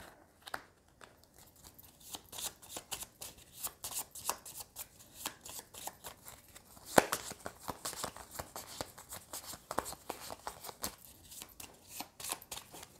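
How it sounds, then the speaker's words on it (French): Playing cards for a Harry Potter Hogwarts Battle board game are dealt onto a table as soft, close, irregular slaps and flicks, with scattered shuffling and sliding sounds throughout and no talking. "Je dois mettre les 5 cartes à Harry"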